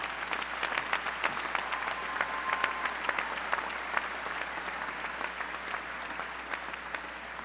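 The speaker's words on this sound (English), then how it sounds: "So if we give those folks a round of applause right now" Steady applause from a commencement audience at a university graduation ceremony, a dense sustained wash of many hands clapping at moderate distance for the full stretch.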